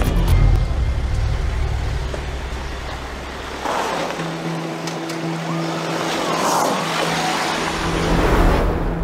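A car engine rumbles up close and loud, then the tone shifts and steadies as the vehicle pulls away, its sound thinning under a broad rushing background.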